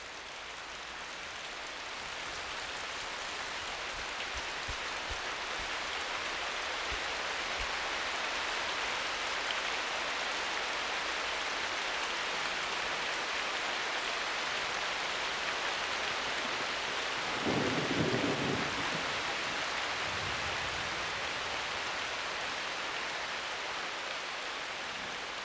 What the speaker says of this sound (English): Regular downpours are essential for life in the forest.